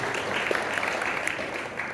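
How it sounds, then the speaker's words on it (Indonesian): Steady clapping from a church congregation during a worship concert, continuous and moderately loud with a crowd murmur underneath throughout the short stretch. "Tepuk tangan sekalian buat Tuhan kita, saudara."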